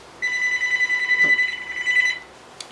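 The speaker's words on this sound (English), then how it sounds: "And the phone's ringing." A telephone rings indoors, one sustained electronic trill lasting about two seconds, fairly loud and close, then it stops and a small click follows.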